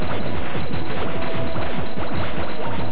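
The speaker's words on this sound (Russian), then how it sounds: "мы разбиваем сейчас по кусочкам эту машину" In the video game Cave Story, a machine is smashed to pieces with a loud, dense burst of repeated crashing impacts that overlap rapidly.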